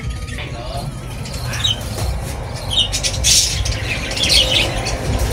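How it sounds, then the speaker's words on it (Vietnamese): Many colorful birds squawk in the countryside near a home where coconuts are being gathered, a steady busy chorus of calls over ambient noise with voices talking in the background. "mấy con chim quá chừng luôn cả nhà."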